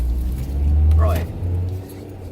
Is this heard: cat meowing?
no